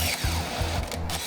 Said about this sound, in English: stay far away from the drill. We need to protect our eyes from flying aluminum chips